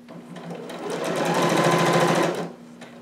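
A sewing machine stitches the center seam of a jumpsuit, running over a pin in one close, steady burst of rapid needle chatter that speeds up and then stops, with no talking.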